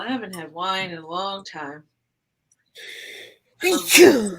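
A single sharp sneeze bursts out near the end, loud and close, after someone speaks and a brief quiet pause.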